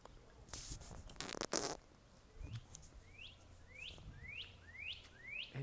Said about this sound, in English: And that bird that never stops singing.